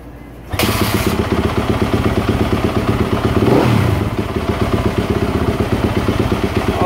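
A Yamaha YZ250F dirt bike, repaired after a fuel pump failure, fires up abruptly and settles into a loud, rapid, clattering idle, with one brief throttle blip midway.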